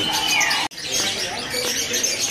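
Lovebirds at a crowded bird stall chirp and tweet continuously, shrill overlapping calls close by with a brief cut in the middle, no voices present.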